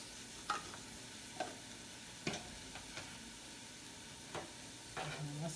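Fresh mushrooms, about eight ounces, sauté in a pan with garlic for a beef and vegetable soup. A faint, soft sizzle runs under a few sharp scraping clicks spaced a second or so apart.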